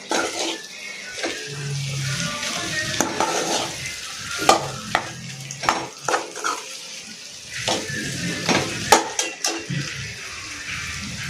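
Vegetables frying in a pan while being stirred, a continuous sizzle broken by irregular scraping strokes and clinks of a spoon, close by and moderately loud.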